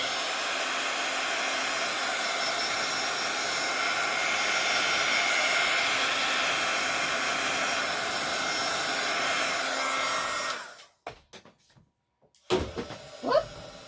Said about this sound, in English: And I'm going to just dry this a little bit again.